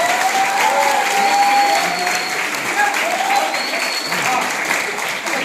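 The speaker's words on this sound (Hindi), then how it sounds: "मैं एक बार जोरदार तालियों के साथ" A training-session audience claps loudly and continuously in a hall, a thick wash of hands that stays strong throughout, with voices and a tonal sound running over the top.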